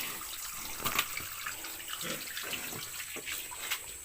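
A farm pig in the countryside drinks steadily from running water, a faint, constant tap-like flow with a few sharper splashes and drips up close, no talking.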